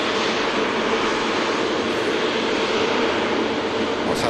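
A Virgin Atlantic Dreamliner jet takes off from Manchester Airport bound for Punta Cana, its engines a loud, steady broadband roar heard from a distance throughout.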